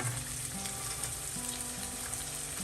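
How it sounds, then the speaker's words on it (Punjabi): Tadka of ginger, garlic and onion frying for palak paneer, a steady close sizzle and crackle of oil that runs unbroken under a faint low hum, with no voices. "ਹੁਣ ਅਦਰਕ ਲਸਣ ਉਸ ਤੋਂ ਬਾਅਦ ਚਾਹੀਦੀ ਪਿਆਜ਼ ਪਾ ਦੇ ਇਹ ਹੁਣ ਲੱਗਾ ਵਾ ਤੜਕਾ ਬਣਨ"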